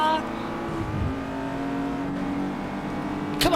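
Racing car engine in an F1 video game, set at the 2019 Japanese Grand Prix, giving a steady loud drone with shifting pitch and a brief rise near the end, with a voice talking over it.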